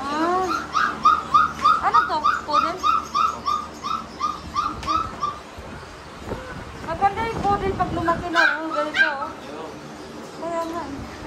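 Several dogs, including a two-month-old puppy, bark, yip and whimper in repeated bursts at a pet center market, fairly close, with people talking over and between the calls.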